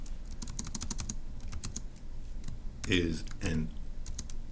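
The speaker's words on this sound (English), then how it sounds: "So I'm going to type that up in section A" Rapid clicking keystrokes on a computer keyboard, close and steady, with a brief spoken voice partway through over the typing.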